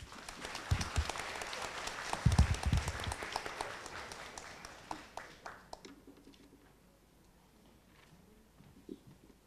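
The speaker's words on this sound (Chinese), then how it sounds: "所以就给两位一点点的掌声" Audience applause at a Chinese-language debate championship match, a burst of clapping that peaks early, then thins into scattered claps and fades to near silence.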